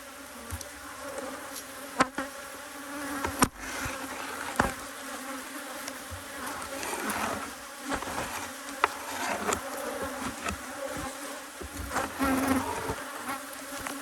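Honeybees buzzing at an open hive during a honey super check, a dense continuous hum close by with occasional sharp knocks and clicks of hive parts.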